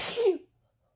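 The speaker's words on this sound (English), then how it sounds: "I just had a sneeze" A single sharp sneeze, close and abrupt, followed immediately by silence.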